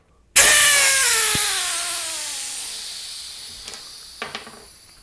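Air rushes out of a loose valve stem on a tubeless mountain bike tire: a sudden loud, close hiss that slowly fades over several seconds, with a couple of faint clicks near the end.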